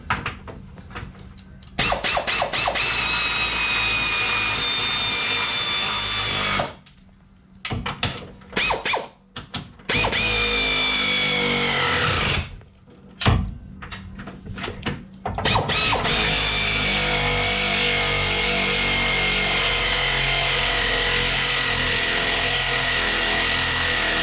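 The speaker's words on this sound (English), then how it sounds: "we're going to use air ratchet to put these long-winded bolts back in." Long, loud bursts of an air ratchet driving long bolts back in during a rear lift install on a 2017 Honda Ridgeline, steady whirring runs broken by short pauses and brief clicks.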